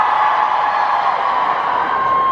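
A large convention hall audience cheers for David Tennant, a steady, loud wall of shouting and whooping voices that holds without a break.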